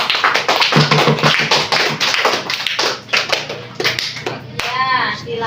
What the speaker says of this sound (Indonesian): Berikan tepuk tangan untuk Jazra.